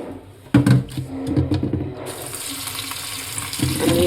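Tap water poured into a pot of neem leaves to be boiled on a stove, with clattering knocks of the vessel, then a steady rush of running water, close and loud, without talk.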